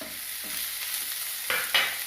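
Sliced onion sautéed in a pan for an egg curry, a close steady sizzle with a couple of sharper scrapes of a spoon toward the end, no speech.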